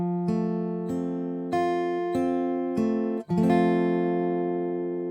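A finger-picked guitar arpeggio from the Hallelujah Chorus, clear plucked notes ringing one after another at a steady, even pace, each sustaining into the next, heard close and alone.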